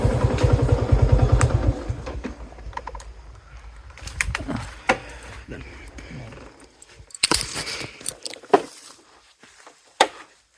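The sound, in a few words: motorcycle riding to the land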